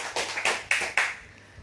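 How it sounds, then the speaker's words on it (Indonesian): A few sharp hand claps, about four in quick succession, ring out close and fairly loud, then fade into quiet room tone. "tepuk tangan"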